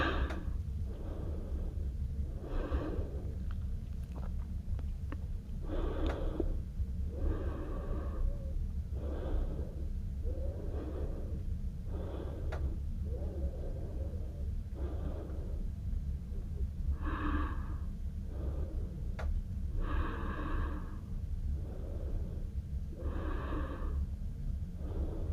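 Repeated breathing during a beginner power yoga session, soft rhythmic inhales and exhales recurring every couple of seconds over a steady low background hum, close and fairly quiet, with no talking.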